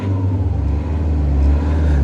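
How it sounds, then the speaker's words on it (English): A Mini One's engine idles steadily at close range, a continuous low rumble with a faint whir above it and no talk. "Just listening to engine,"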